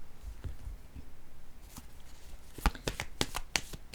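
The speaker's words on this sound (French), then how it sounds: "Et je vais piger une autre carte." Tarot cards being handled and shuffled from a deck, soft papery riffles and a run of quick crisp flicks and taps, close and quiet.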